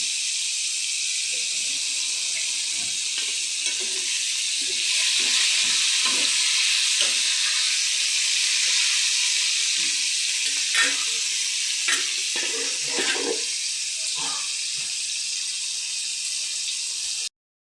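Ridge gourd and potato frying together in hot oil give a steady, loud sizzle with scattered stirring scrapes and clinks throughout, with no talking.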